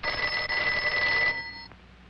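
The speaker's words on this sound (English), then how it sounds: "Answer the phone, Luke." Cartoon telephone bell rings in a steady, bright, continuous trill that stops abruptly near the end, with no talk over it.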